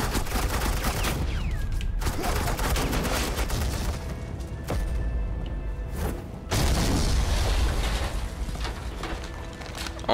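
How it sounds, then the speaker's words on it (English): Video game gunfire from Batman: The Enemy Within, with Agent Quinn laying down suppressing fire: loud, continuous bursts of rapid shots and booms, close and dense, with short pauses between volleys. "This is Agent Quinn, suppressing fire."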